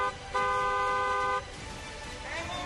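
A single sustained car horn blast lasting about a second, followed by quieter street noise and a brief faint second toot near the end.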